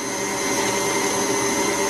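An electric mixer whips liquid cream into chantilly, giving a steady, loud motor whine with a constant hum that runs unbroken and close throughout, with no talking.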